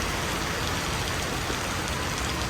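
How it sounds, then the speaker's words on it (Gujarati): Heavy monsoon rain pours down steadily in Vadodara, a dense, loud, unbroken hiss of drops with no voices over it. "વરસાદ ચાલુ જ છે કન્ટિન્યુ."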